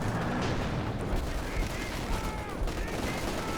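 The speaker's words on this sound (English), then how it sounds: "Oh, we've got light artillery going down on the Vickers." Light artillery fire in Company of Heroes 2, landing on a Vickers machine-gun team: a dense, continuous battle din of blasts and gunfire that stays loud throughout with no clear gaps.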